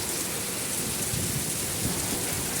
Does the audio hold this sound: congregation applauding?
no